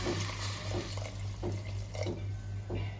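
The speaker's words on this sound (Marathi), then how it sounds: "पाणी टाका अजून" Water splashes and gurgles into a cooking pot of pulao in short repeated pours, close up, over a low steady hum.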